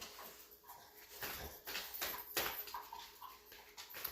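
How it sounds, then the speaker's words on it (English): Two pet dogs, Stella and Gus, whimper and yip softly indoors in short, uneven bursts, faint and close, mixed with small shuffling sounds. "Sorry about my dogs."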